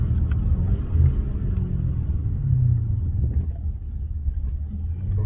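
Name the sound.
BMW 650i 4.4 V8 twin turbo downshifting for speed bump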